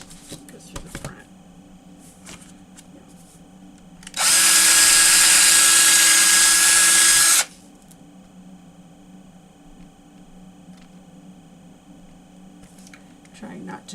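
A power drill bores a hole through a book's pages for bookbinding, one loud, steady whir lasting about three seconds. Quieter handling noises and faint talk come before and after it.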